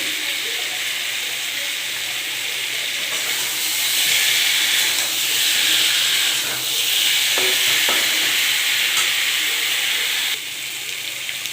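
Potatoes frying in a pan as dum aloo masala is added, with a steady loud sizzle and hiss that swells in the middle, broken by a few stirring scrapes.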